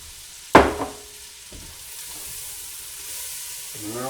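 Onions and celery sautéing in a pan for fish chowder: a sharp clatter as they land, then a steady low sizzle with occasional stirring scrapes, close and moderately loud, no talking.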